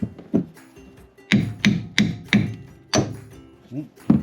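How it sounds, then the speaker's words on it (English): A series of heavy hammer blows on the metal of a 1987 Jeep Wrangler under restoration, about eight sharp strikes at an uneven pace, ringing close and loud with brief pauses between them. "Hammer time."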